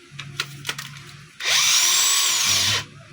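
DeWalt DCF900 20V impact wrench with a cleaned switch, a few short clicks and taps followed by a loud, steady high-pitched whirring run of about a second and a half that cuts off abruptly.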